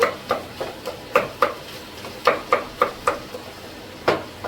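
Tomatoes are sautéed and mashed in a pan with a utensil, giving a regular series of sharp knocks and scrapes against the metal over a faint sizzle, with no talking.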